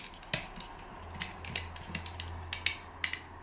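Plastic parts of a Transformers Combiner Wars Silverbolt toy are unfolded and snapped into place, making a series of small, sharp clicks and ratcheting snaps. The sounds are close and faint, with no talking.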